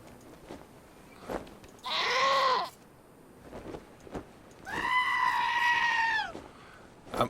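Two goat bleats from the video game Wasteland 2, each a wavering, nasal call lasting about a second, the second longer and fuller, standing out clearly over a quiet game ambience.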